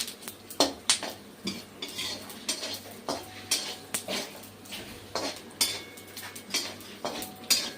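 Edible gum (dink) frying in hot oil for nachni laddoos, popping and crackling in a steady run of sharp close clicks and ticks, with scattered louder pops and some utensil scraping.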